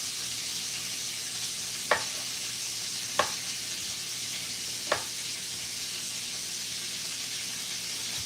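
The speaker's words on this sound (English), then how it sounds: "as your bacon's cooking, what you want to do is just stir it once in a while" Bacon sizzles steadily in a frying pan with a constant broadband hiss, broken by three sharp scraping clicks as the strips are stirred, heard up close without any talk.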